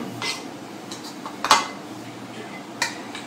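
Rice served onto a plate for a Thai chili-paste rice dish, with soft utensil-on-dish clinks and scrapes, two sharper knocks standing out against quiet kitchen background.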